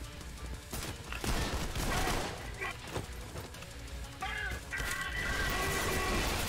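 Dense gunfire from the video game Trepang 2, with rapid bursts and sharp impacts layered over a chaotic in-game mix; a player talks at points.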